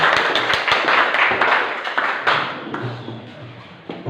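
A classroom group of teachers claps for the second presenting group, a short burst of scattered hand claps and taps that thins out while someone speaks over it.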